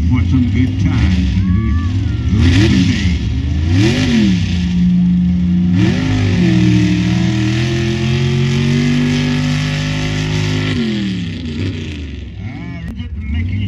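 A mud race car in the pro mod/outlaw class at a mud race in Chinle, Arizona revs loudly, its engine pitch sweeping up and down in repeated bursts before settling into a steadier drone, with some talk mixed in.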